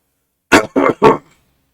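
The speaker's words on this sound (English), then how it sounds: "I will now clear my throat" Three short, forceful throat-clearing bursts in quick succession, close and loud, then quiet.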